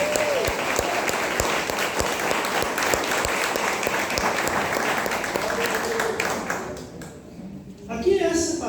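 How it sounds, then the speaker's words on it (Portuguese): Church congregation breaks into dense, sustained applause during a healing and miracles service, loud and steady for several seconds before fading out near the end. "dê para ele uma salva de palmas"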